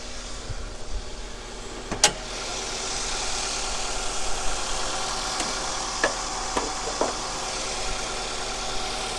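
A Toyota Tarago (Estima/Previa) van with its original engine idling, a steady broadband hum with a few brief clicks and ticks, recorded close and with no talking.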